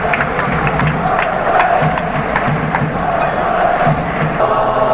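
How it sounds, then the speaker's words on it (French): A football stadium crowd at a Nice versus Troyes match roars and cheers for Méfi, the club's eagle mascot, a loud, continuous wash of voices and applause holding steady throughout. "Voilà l'applaudissement pour l'aigle Méfi"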